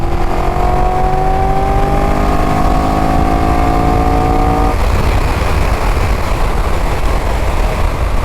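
A Triumph 1200 GT Pro Explorer motorcycle in sport mode accelerates hard to overtake, its engine note climbing steadily for several seconds before giving way to loud, rushing wind noise.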